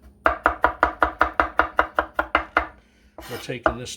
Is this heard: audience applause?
no